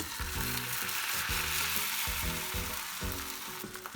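An egg crepe for hiyashi chuka cold ramen frying in a pan, loud continuous sizzling with repeated low pulsing thumps of the pan, no voices.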